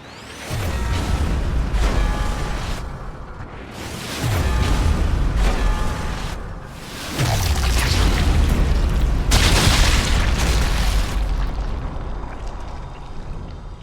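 Landmine and trip mine blasts in Sniper Elite 5, three heavy booming explosions a few seconds apart, each with a deep low thump and a long rumbling decay, loud and close with no talking.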